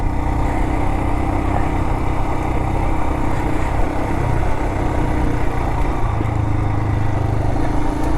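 Motorcycle riding through the Mojave Desert, a steady close engine drone with continuous rumble and mild rises in revs, loud and unbroken throughout.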